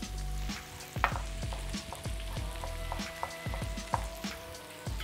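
Smoked salmon and samphire sizzling in a hot pan as the food is stirred and moved around, with close frying crackle and repeated sharp scraping and clattering knocks, no talk.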